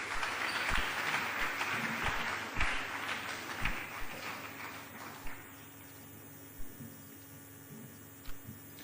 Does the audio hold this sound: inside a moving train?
no